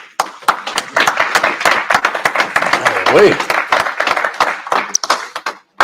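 A street-speaking crowd at an outdoor gathering in Birmingham claps steadily for several seconds, a dense rattle of many hands, close and loud, with a voice speaking briefly over the applause.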